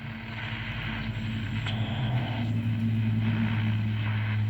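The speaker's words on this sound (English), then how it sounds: "Getting some interference from my office." Cheap AM radio picking up RF interference from nearby office equipment, giving a steady, loud buzzing static with low droning hum tones and a wash of hiss that swells slightly midway, with no talking.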